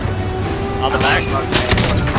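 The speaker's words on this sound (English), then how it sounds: "I just literally quick scoped all four of them" Sniper rifle quick-scope shots in Call of Duty: Warzone ring out as two loud, sharp cracks about half a second apart, with tails that echo, while a player talks excitedly over the gunfire.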